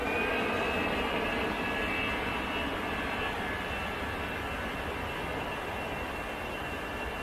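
An easyJet Airbus A320 jet bound for Athens at Manchester Airport gives off a steady, continuous engine roar that holds level throughout, moderately loud with no voices over it.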